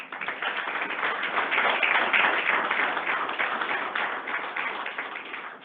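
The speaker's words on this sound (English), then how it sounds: "Let's give all these individuals, all of our 25-year veterans, a round of applause." An audience claps steadily at an Iowa DOT employee recognition ceremony honoring 25-year veterans, with dense, sustained applause from a crowd that holds an even level for several seconds and carries no speech.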